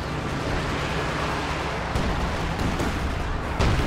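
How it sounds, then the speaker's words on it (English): Soviet incendiary artillery barrage in the Company of Heroes 2 strategy game, a dense continuous roar of explosions and burning with a few sharper impacts near the end, loud and close. "I was right, incendiary artillery barrage."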